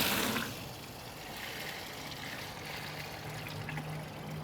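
Brine is poured over turkey legs in a briner bucket, a soft, steady trickle of liquid after a brief louder splash at the start, faint and close with no voices.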